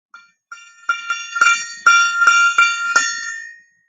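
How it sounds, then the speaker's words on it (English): A gong played for sound healing: about nine bright, ringing metallic strikes in a quick, uneven series, close and clear with no talk. "I have a gong that I play, and it does its job for healing different effects."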